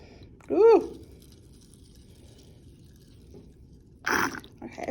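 Cooking oil poured into a measuring cup while making homemade moon sand: a brief vocal exclamation near the start, then a quiet stretch, and a short, close pouring splash near the end.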